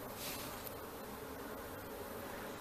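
Apis honeybees buzz densely and continuously during a hive capture and rescue, a close, steady swarm hum with no voices.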